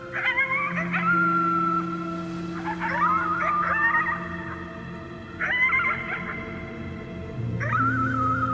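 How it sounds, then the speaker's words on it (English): In the video game Before Your Eyes, a sick child howls at the moon with long, wavering, dog-like howls that rise and fall over steady background music. "You howled at the moon, at the top of your lungs."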